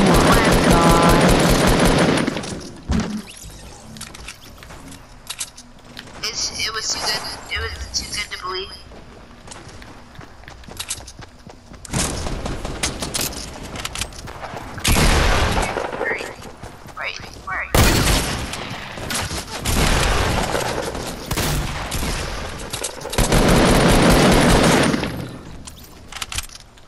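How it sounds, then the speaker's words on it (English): Hunting rifle gunfire in Fortnite, with several loud, sharp shots and bursts spread through the stretch, some near and heavy, mixed with other game effects while a player talks excitedly over them. "I'm killing with this hunting rifle, oh my gosh."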